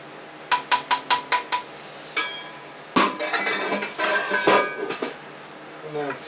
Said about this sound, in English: And then spread it out as evenly as you can around the pan.